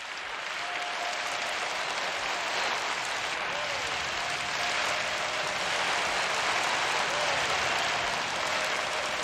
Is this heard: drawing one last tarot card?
no